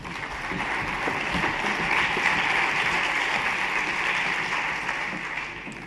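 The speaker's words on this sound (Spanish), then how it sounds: "Un fuerte aplauso para ella." An audience at a conference talk on digital content gives a strong round of applause, thick steady clapping that swells and then tapers off near the end.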